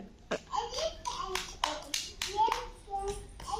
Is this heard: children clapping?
yes